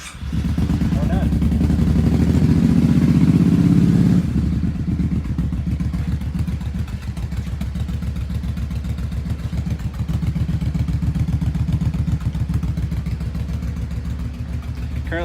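A Kawasaki KFX700 ATV engine, just back together after a rear head gasket replacement, cranks and catches, then settles into a loud, steady, rumbling idle close by.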